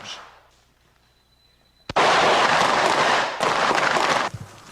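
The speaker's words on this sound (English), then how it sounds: "Exercises like this one, shooting live ammunition inches from each other's heads." Live-ammunition gunfire during special forces training: a sharp crack followed by a dense, loud stretch of rapid shots and blasts that briefly breaks off, then resumes before stopping.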